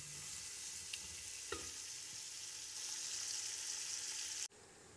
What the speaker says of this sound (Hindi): अब हम इसमें डालेंगे आलू। इनको थोड़ी देर भून के